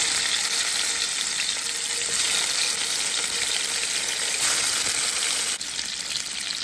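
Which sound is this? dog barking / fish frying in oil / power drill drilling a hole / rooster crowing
fish frying in oil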